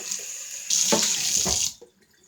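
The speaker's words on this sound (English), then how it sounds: "Let me just rinse this guy out real quick." Tap water runs hard into a blender cup being rinsed in a kitchen sink, a steady close splashing rush with a few knocks of the cup, then cut off into near silence.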